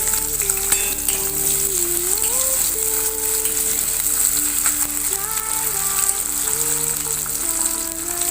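Onions, capsicum and ginger-garlic sizzling steadily in a hot pan, a dense continuous frying hiss with light crackles, close up, while faint background music plays.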